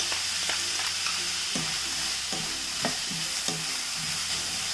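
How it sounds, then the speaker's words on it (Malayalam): Cut green beans tossed into a hot pan and stirred while frying, a continuous sizzle with repeated rhythmic scraping strokes of a spoon across the pan, close and without speech. "അതും കൂടി ഇതിലേക്ക് ഇട്ടിട്ട് ഇളക്കി കൊടുക്കാം."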